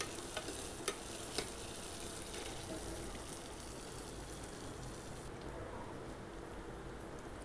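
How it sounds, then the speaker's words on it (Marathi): Peanuts and coriander sautéing in a pan, a steady broadband sizzle throughout with a few faint clicks of stirring early on, no voices. "त्यानंतर आपण घालणार आहोत शेंगदाणे, आणि थोडीशी कोथिंबीर. याला छान असं परतून घ्यायचं आहे."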